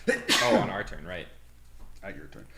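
One sharp sneeze bursts out among players talking over a tabletop battle board game, loud and close, followed by more conversation.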